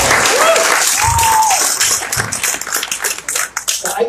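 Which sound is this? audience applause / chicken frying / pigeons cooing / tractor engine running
audience applause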